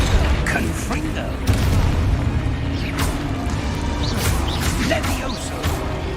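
Spell explosions in Hogwarts Legacy sound as dull booms and crashing impacts over a continuous rumbling game backdrop, layered with brief whooshes.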